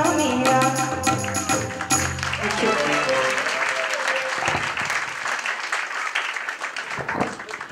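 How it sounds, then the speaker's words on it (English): An audience at a live music event applauds as a song ends, the fading music quickly giving way to a sustained wash of clapping that holds steady and then thins out toward the end. "The applause says it all"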